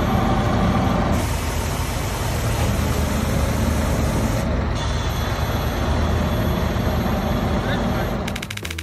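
A truck roars loudly and steadily close by, with a sharp hiss like an air brake near the middle and a burst of clatter at the end.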